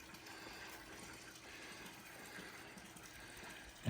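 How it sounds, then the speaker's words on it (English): Sump pump drawing water out of a small inflatable pool in Hawaii, a faint steady whir with a soft gushing flow, continuous and unbroken until a brief thump at the end. "right here's the sump pump that I'm pumping out of this little inflatable one"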